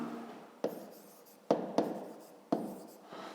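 Pen writing by hand in a notebook makes soft scratching strokes with a few sharp taps as the pen meets the paper, faint and close, with no voice over it.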